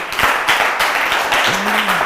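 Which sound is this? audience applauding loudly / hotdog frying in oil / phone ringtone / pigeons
audience applauding loudly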